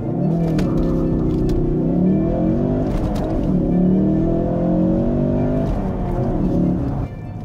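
A Ford Focus RS in sport mode revs and accelerates hard in first gear. A loud, rising engine roar with sweeping pitch climbs and dips through gear changes, close and sustained.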